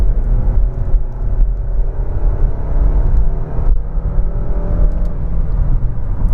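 A 2021 Nissan Rogue Platinum's 2.5-liter engine accelerating through its CVT, a steady, slightly coarse low rumble and whir heard from inside the cabin, sustained without speech.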